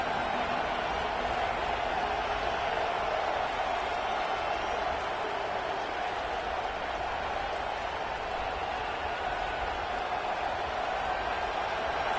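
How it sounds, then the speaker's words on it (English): A football stadium crowd roars to back its defense near the goal line late in a close first half, a dense steady wash of cheering and noise that holds at full volume throughout. "the crowd really making some noise now, trying to help out this defense to get this stop near the goal line"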